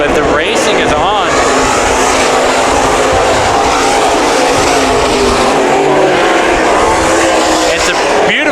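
Race cars at Bakersfield Speedway, a loud continuous engine roar of several cars at close range, with pitch sweeping as they pass.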